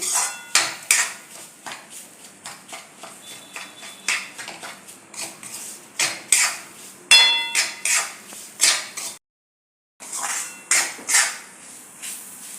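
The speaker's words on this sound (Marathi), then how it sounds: "असं केळ घालून एकसारखं मिक्स करत राहायचं म्हणजे रवा भाजता भाजता आपले काजूही भाजतात" Semolina, banana and cashews being stirred and roasted in ghee in a pan for sweet shira, with repeated scraping and clinking of a spoon against the metal pan in an irregular rhythm and a short pause near the end.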